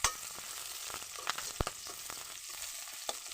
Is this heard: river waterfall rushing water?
no